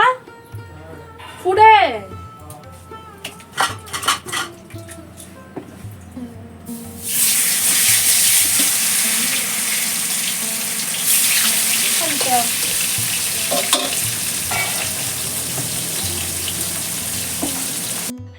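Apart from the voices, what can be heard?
fish frying in a pan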